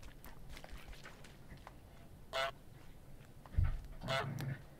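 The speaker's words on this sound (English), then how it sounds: "Maybe just occasional honks is okay." A cartoon goose in Untitled Goose Game lets out two short, sharp honks a couple of seconds apart over quiet, low-level background game ambience.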